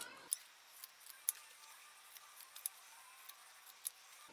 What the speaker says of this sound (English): now at this point I can trim right up to the little block